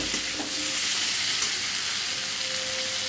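Chopped tomatoes and torn green chillies hitting hot oil for a tilapia curry, a loud continuous sizzle close up with faint stirring scrapes underneath, steady throughout.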